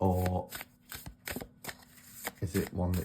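A Zolar's Astrological Tarot deck, sealed for over forty years, is shuffled by hand in quick riffling bursts, crisp and close, with a voice speaking at the start and end.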